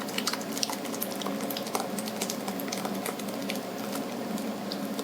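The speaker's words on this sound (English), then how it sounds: "But I am going to use my flour sack towel here, and then gently pour the curds and whey" Curds and whey poured gently through a flour sack towel into a container while making buttermilk, giving a steady wet trickling and splashing that runs unbroken from start to finish, close up.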